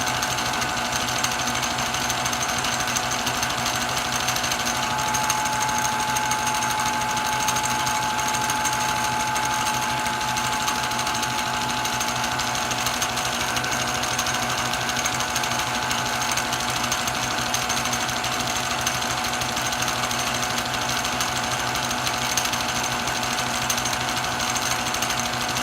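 New 100 amp generator running at 3,400 RPM, a steady, even mechanical drone with a fine rapid rattle and a faint high whine, continuous and unchanging throughout with no talking.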